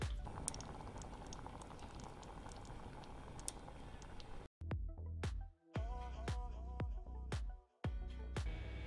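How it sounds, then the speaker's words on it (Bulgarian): Tomato sauce simmering gently on low heat in a pot, a steady soft bubbling that runs alone for several seconds before breaking into a few sharper clinks and knocks of kitchen handling. "на съвсем умерен огън лекичко да си къкри и да редуцира"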